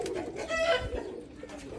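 Teddy flyer pigeons in a loft coo in soft, low, throaty rolls, close by, with faint background rustle and no talk.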